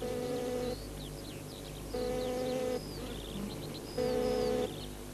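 Honeybees hum in repeated droning bursts that rise and fall in loudness as they pass near, with small birds chirping softly throughout.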